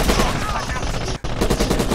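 Video game automatic gunfire in a rapid, loud, continuous burst, broken by one brief gap before resuming.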